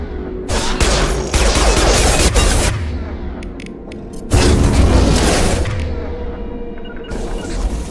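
Heavy sci-fi gunfire in Mass Effect 2 Legendary Edition, dense bursts of rapid shots with booming impacts, loud and continuous in two long volleys with a short lull between.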